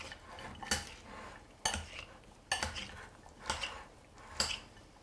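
A mixing spoon stirs a picnic chop salad in a bowl, making five distinct clinking, scraping strokes about a second apart, close and moderately quiet with no talk.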